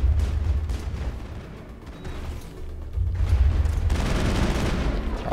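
Game gunfire in a Mass Effect firefight: dense, continuous volleys of shots and booms rumbling throughout, louder bursts at the start and again after the midpoint, with no talk over it.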